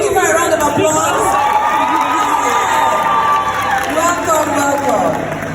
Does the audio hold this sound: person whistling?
no